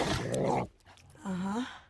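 A dog whimpers and whines in the Fallout trailer, a short rough yelp followed by a pause and then a rising, wavering high whine, fairly close and clear.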